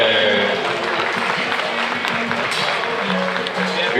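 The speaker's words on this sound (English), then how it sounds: "have a round of applause for Luke Spradlin." Crowd applause at a junior livestock show for a swine class winner, a steady spread of clapping from the stands with an announcer's voice over it.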